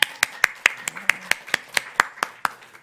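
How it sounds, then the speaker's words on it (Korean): Rhythmic unison clapping from a church congregation during a prayer meeting, about a dozen sharp, evenly spaced claps close by, with a faint voice underneath. "박수 한번 쳐요"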